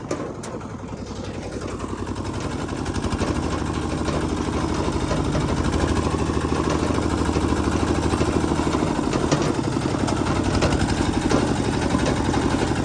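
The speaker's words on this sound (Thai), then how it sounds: "ขับรถไถมา" A walking tractor's engine runs steadily in a rice-farming setting, a continuous loud chugging drone that holds at an even level throughout with no talk.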